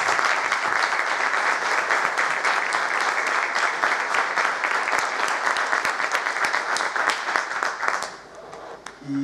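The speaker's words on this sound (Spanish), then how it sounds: "un fuerte aplauso también pido para todos ustedes." Loud, sustained applause from an audience filling a cine theatre at an album launch concert, steady dense clapping that fades out near the end.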